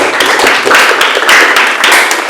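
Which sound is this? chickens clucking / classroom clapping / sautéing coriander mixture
classroom clapping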